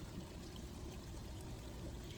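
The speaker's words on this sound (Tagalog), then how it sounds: "lagyan lang natin siya ng tubig para sa ating noodles" Water pours into a pan of sautéed vegetables for pansit noodles, a continuous soft splashing rush that holds steady and fairly quiet from start to finish.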